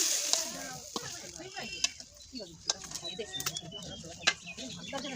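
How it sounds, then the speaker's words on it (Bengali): Fried chicken pieces cook in a thin gravy, giving a close, steady sizzle with scattered crackles and pops. "চিকেন ফ্রাইগুলো এই পাতলা গ্রেভির উপর দিয়ে এখন কিছুক্ষণ রান্না করলে এই গ্রেভিটা ঘন হয়ে যাবে"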